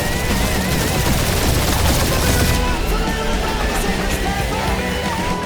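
Turrets blasting away in Marvel's Guardians of the Galaxy, a dense continuous barrage of rapid gunfire, loud and close, thinning slightly partway through under game sound effects.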